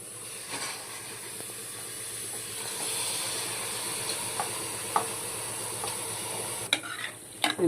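Beef intestines sizzle and fry in a pan with onions, with a steady hiss and steam and occasional scraping taps from stirring near the end.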